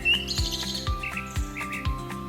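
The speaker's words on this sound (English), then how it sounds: "And up on the fence, do you see the birds?" Small birds chirping on a farm fence, repeated high tweets over an evenly pulsing musical backing.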